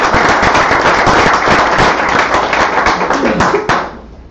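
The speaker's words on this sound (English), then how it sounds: "Would you join me in giving them a round of" An audience at a school accreditation announcement applauds, a loud, dense burst of many hands clapping that continues for several seconds and then cuts off abruptly.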